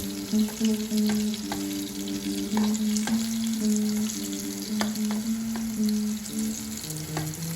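Pumpkin frying in a pan with a steady sizzle and scattered small pops over a low constant hum, no voices.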